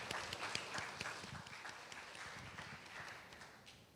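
Audience at a talk-panel session of a game conference, clapping steadily in a dense patter of many hands that fades gradually over several seconds, heard from within a hall.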